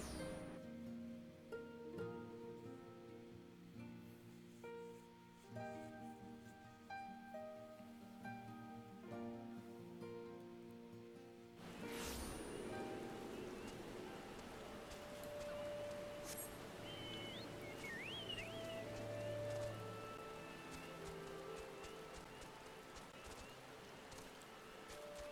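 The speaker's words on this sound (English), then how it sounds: "Raining, and I can't fly." Rain falling in the video game Final Fantasy XIV, a soft, steady patter with a faint rumble, coming in after a stretch of game music and continuing quietly to the end.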